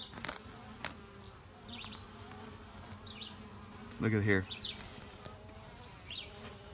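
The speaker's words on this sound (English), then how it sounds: "Well, they're looking good." Honey bees hum softly and steadily around a newly occupied hive, a faint continuous buzz with a few brief louder passes and a short spoken remark.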